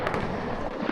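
Fireworks over Niagara Falls heard from a cruise boat, a dense wash of rumbling bursts and crackle blending with a steady roar, with no speech.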